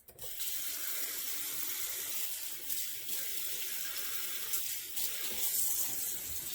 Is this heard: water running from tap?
yes